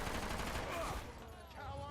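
Video game gunfire with two bullets fired, a burst of sharp shots dense in the first second before fading, with a voice speaking over it.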